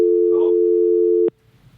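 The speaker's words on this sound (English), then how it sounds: "Oh, God, the phone's ringing." A single loud, steady electronic telephone tone, sustained for about a second and a quarter before cutting off abruptly, with a brief burst of faint voice partway through and quiet room noise afterward.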